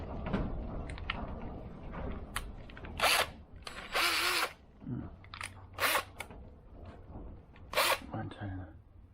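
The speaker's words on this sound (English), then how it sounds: "I'm going to drill through." Several short bursts of a power drill whirring up and cutting through wood, scattered between speech and handling noises, close by.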